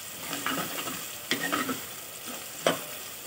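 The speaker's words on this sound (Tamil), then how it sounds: "நம்ம நல்லா இது மாதிரி கரண்டியை வச்சு இவங்களை நல்லா வதக்கி விட்டுற" Garlic and onion sauté in oil for aloe vera kuzhambu, a soft steady sizzle broken by several sharp scrapes and clacks of a ladle stirring the pan, close and with no talk.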